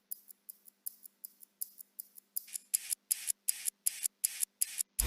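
Unprocessed wristwatch ticking: steady, rapid clicks at close range, starting faint and becoming louder and brighter partway through, with a low thump at the end.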